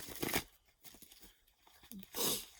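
Tarot cards being shuffled by hand, giving crisp papery riffles and crinkling bursts at the start and end with quieter rustling between.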